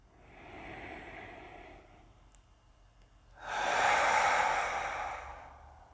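During a yoga class, a person takes a slow, deep inhale and then a louder, long sighing exhale through the mouth, close and clear with no talking.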